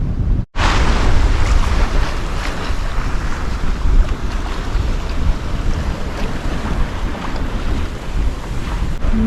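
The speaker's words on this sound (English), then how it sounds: "it's a good wind to sail to Lunenburg" Strong wind roaring across the microphone aboard a sailboat heading for Lunenburg, a loud steady rush with water and wave wash beneath it, broken only by a momentary dropout near the start.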